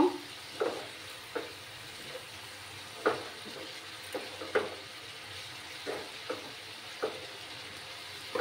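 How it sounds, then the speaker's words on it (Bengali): Bottle gourd peel vegetable curry with salt being stirred in a pan over a soft, low sizzle, with about a dozen scattered spatula scrapes and knocks at an irregular pace. "লবণটা দিয়ে আবার নাড়াচাড়া করে নেব"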